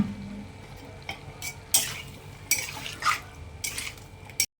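Ground spices (salt, turmeric, chili, cumin, coriander, garam masala) sautéed with a little water in a pan for chicken vegetable soup, soft sizzling under intermittent scraping and stirring clinks of a spatula against the pan.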